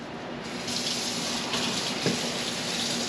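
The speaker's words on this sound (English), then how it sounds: "So we're going to run a little bit of water." A kitchen sink tap runs in a steady, close, full stream of water during Hatch chili roasting prep, with no voices over it.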